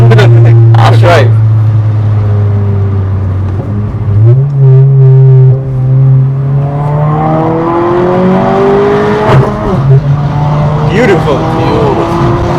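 A stage 2 tuned Honda Civic FL1 drones steadily from inside the cabin, rising in pitch as it accelerates through gears, under constant conversation.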